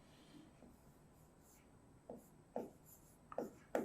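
Pen or chalk writing out a short chemistry question by hand in a class lesson, a few faint scratchy strokes early, then sharper, louder strokes grouped toward the end, no talking.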